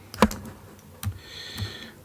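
Keyboard shortcuts are pressed on a computer keyboard, with three sharp key clicks spaced about a second apart, close and fairly quiet, with no talk.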